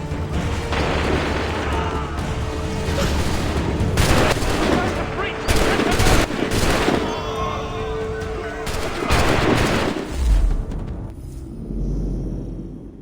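Volleys of musket fire crackle through a battle in Assassin's Creed III, several dense bursts of shots over a continuous roar of combat, fading toward the end.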